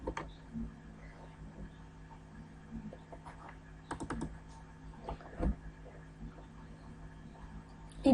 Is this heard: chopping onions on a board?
no